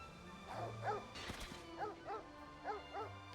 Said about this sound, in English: That is a mean-looking dog.